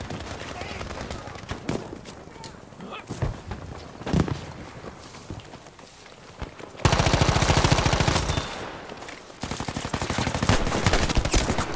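Rapid bursts of M1A1 carbine fire in the Battlefield 5 video game, loud and close, with dense rattling volleys in the second half following scattered shots and footsteps, under occasional talk.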